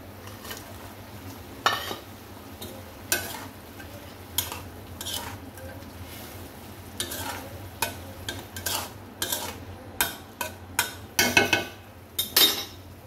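Baila fish going into fried onions in a pan, a string of sharp clinks and scraping stirs over a soft steady sizzle, growing busier toward the end.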